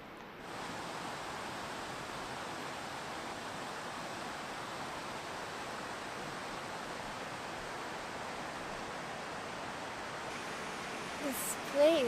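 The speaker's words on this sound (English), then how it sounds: "This place is just full of waterfalls. You can hear like the water coming down on the distance" Distant waterfalls pour down around a sheltered wilderness anchorage in the mountains, heard as a steady, even rush of falling water that holds unbroken throughout.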